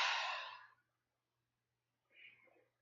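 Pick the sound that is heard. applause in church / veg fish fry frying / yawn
yawn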